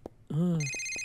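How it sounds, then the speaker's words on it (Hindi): In a library scene from an animated cartoon, an electronic mobile phone ringtone chimes in with high steady tones, overlapping a brief voice, then keeps ringing clearly to the end. "इस फोन को बंद करो।"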